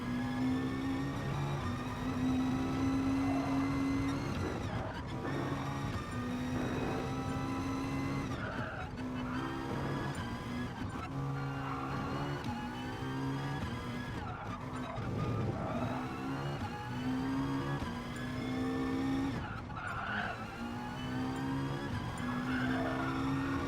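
A race car engine in GT Sport on the Nordschleife revs hard and continuously, climbing through gear changes with brief dips between shifts, loud and steady throughout with occasional tire squeal.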